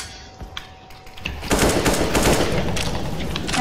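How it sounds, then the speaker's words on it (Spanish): Counter-Strike gunfire, starting as a few scattered shots before erupting into loud, rapid automatic fire that continues to the end. "Ya están disparando."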